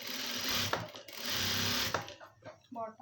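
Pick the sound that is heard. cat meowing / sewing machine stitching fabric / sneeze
sewing machine stitching fabric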